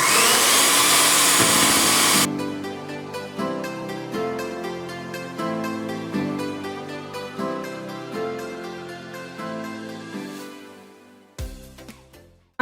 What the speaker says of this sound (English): I'm gonna use the mixer and mix it for about 2 minutes